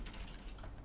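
Keystrokes on a computer keyboard, pressing the Z key to switch views in Blender, heard as soft, fairly quiet tapping clicks with no speech.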